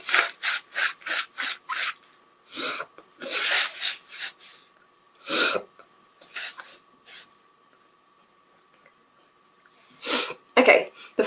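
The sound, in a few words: blowing nose into a tissue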